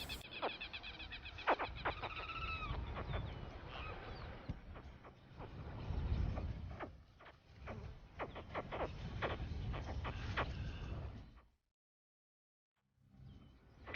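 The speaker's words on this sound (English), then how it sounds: "Chirps from deep beneath the leaf litter inform her the waiting is almost over." Caiman hatchlings chirp from beneath leaf litter in the Amazon rainforest, giving repeated faint, high, squeaky calls over a low rustling background before the sound drops to silence.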